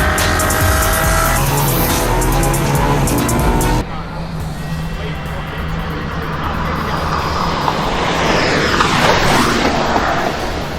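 A Ferrari LaFerrari supercar engine roars loud and continuous, with a sharp shift in tone partway through and rising, sweeping revs toward the end, suggesting a car passing at speed with some tire noise.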